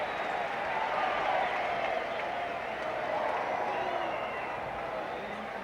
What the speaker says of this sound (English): The reason you're hearing that intermittent roar from the crowd is down behind the screen